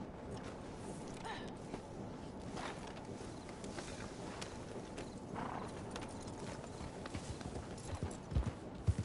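Steady clip-clop of horse hooves at a walking pace in the video game Red Dead Redemption 2 Online, fairly close, with a brief whinny and some ambient outdoor noise.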